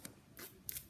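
Scissors snipping open a Pokemon Trading Card Game booster pack, a few short, crisp cuts close up in a quiet room.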